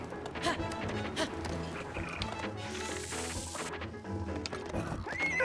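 Horse from Zelda: Breath of the Wild neighs and whinnies over steady galloping hoofbeats, layered with game music and effects throughout.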